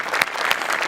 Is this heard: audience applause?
yes